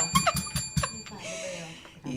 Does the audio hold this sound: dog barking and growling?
no